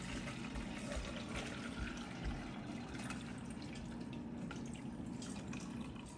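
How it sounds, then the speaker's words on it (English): Homemade Guyanese mauby being strained into a measuring bowl gives a steady, close pouring and trickling of liquid that runs without pause. "Now I'm going to strain this in my"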